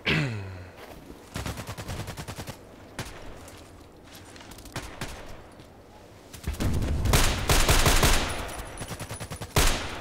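Rifle fire outdoors among trees, mixing single sharp cracks with rapid bursts of shots, some distant and some close and loud, with reverberating echoes across ten seconds and no talking.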